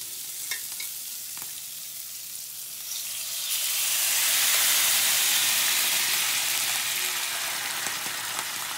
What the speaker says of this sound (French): Et on va mettre un peu de bouillon.